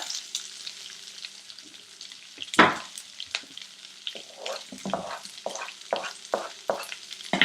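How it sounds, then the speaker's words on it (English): Oil sizzling and crackling in a frying pan, with a loud burst as slit green chilies drop in, then intermittent spattering and stirring scrapes. "while this is sizzling, I'm going to add 4 green chilies that are slit at the center."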